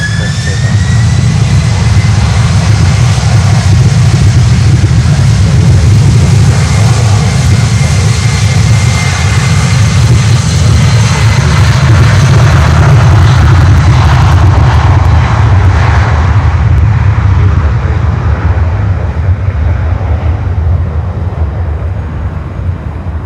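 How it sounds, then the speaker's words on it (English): A LATAM Cargo airplane takes off at Miami airport with a loud, sustained engine roar and a deep rumble that slowly fades toward the end. "Take off, Latam Cargo."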